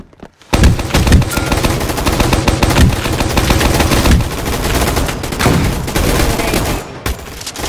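Snowball launcher in the Gunfight Arena video game fires a loud, sustained barrage of rapid shots. After a brief near-silent start the firing runs almost unbroken, close and dense, for about seven seconds before cutting off.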